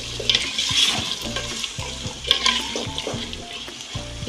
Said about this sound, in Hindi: दो मिनट में इसको बस फ्राई कर लूँ घी में